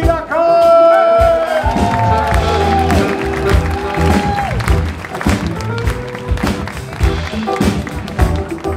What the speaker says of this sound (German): Ich bitte um einen riesen Applaus for the one and only Mr. Elmar Federkeil!